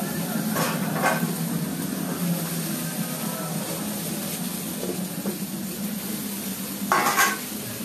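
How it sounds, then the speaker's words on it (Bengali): Onion, ginger and garlic fry in a pot for a meat curry, giving a continuous soft sizzling hiss with a few utensil clinks and stirring scrapes near the start and end. "পেঁয়াজ আদা রসুনটা ভাজছিল, তো এখন ভেজে নিচ্ছে করছে।"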